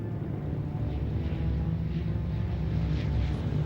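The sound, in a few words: military transport aircraft flying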